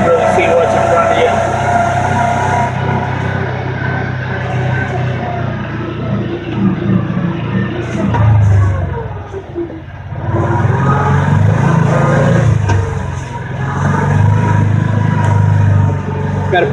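A 2022 Kawasaki Teryx S LE side-by-side in four-wheel drive crawls over a deeply rutted road at night, its engine a continuous loud rumble with a brief dip midway, while someone talks over it throughout.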